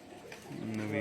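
A pigeon gives a soft, low coo that swells toward the end, fairly faint and close, with a person talking around it.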